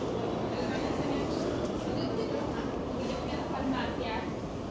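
A nearly century-old New York City subway train rumbles steadily in a station or tunnel, a dense continuous rolling noise with someone talking over it.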